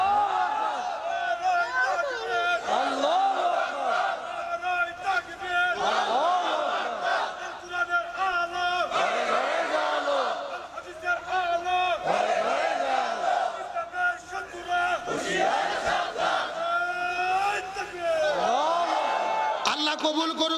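Large crowd at a Bangladeshi religious rally shouting takbir in loud unison, rhythmic chanted bursts rising and falling continuously over a reverberant PA, dense massed voices throughout.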